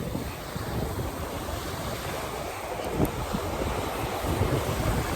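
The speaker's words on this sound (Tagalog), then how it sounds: "Ang lalaki ng alon." Ocean surf rolls and crashes under strong gusts of wind buffeting the microphone in heavy rain and rough water on Saipan, big waves and strong current, a continuous loud roar that swells toward the end.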